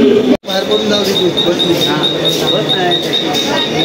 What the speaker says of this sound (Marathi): तर चला फायनली ट्रेन आलेली आहे